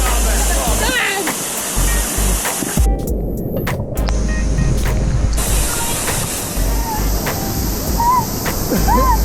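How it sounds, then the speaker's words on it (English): Algar waterfall in Alicante, Spain, a loud continuous rushing roar of falling water heard up close, with people calling out and shouting over it. "We're going to try and get to the waterfall together."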